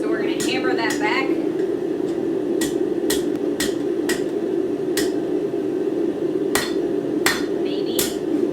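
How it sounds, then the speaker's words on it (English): A hammer strikes a forged three-prong fork on an anvil in a series of sharp metallic rings, some spaced out and some in quick pairs, over a steady forge roar and background hum. "So we're going to hammer that back."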